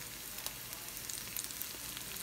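Chopped cilantro sizzles in a hot skillet for fish tacos, a steady close frying crackle with small pops.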